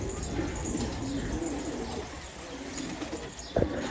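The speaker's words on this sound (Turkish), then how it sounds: "Şimdi altta da kuş çok oldu ya arkadaşlar." Pigeons coo softly in a loft, with low murmuring calls over a dull background hum. A brief sharper sound breaks in near the end.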